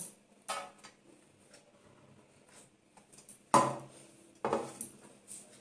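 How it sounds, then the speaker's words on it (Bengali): Food set down onto a metal plate while cooking methi paratha and meat, a few soft scrapes followed by two louder clattering contacts, close in an otherwise quiet room. "এই দেখো থালার মধ্যে দিয়ে দিচ্ছি"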